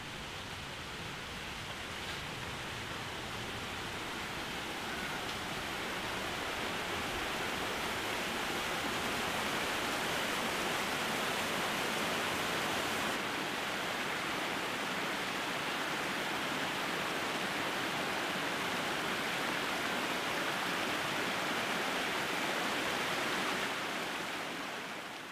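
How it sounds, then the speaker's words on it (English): Steady rushing roar of a woodland waterfall in the Loweswater Fells, broad and even throughout, with no voices. "a lovely waterfall set amongst the woodland"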